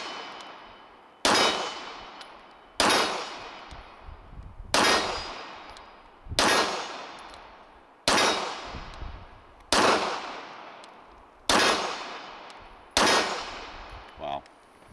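A Wilson Combat SIG P320 pistol fires about nine loud, sharp gunshots at a fairly even pace, each one leaving a long ringing decay before the next.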